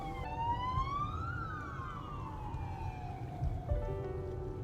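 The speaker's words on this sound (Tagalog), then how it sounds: "May uh, ambulansya kaya medyo tumabi kami." A wailing ambulance siren rises and falls as the vehicle passes, heard from inside a moving car over a steady low road rumble.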